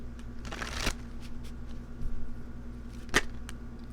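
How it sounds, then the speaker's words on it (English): Tarot cards riffle and slap together in a couple of quick shuffles, crisp and close over a low background hum, with quiet gaps between the bursts. "Let's get one more shuffle."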